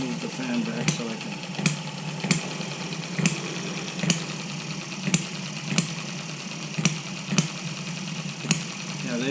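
A model hit-and-miss engine runs steadily on a tank of gas, giving sharp firing pops at roughly even intervals over a continuous mechanical hum and fan noise.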